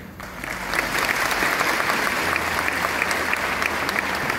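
Steady, loud applause from a large audience at an open-air concert in Istanbul's Harbiye Cemil Topuzlu amphitheatre, sustained clapping that swells slightly and keeps going without talk.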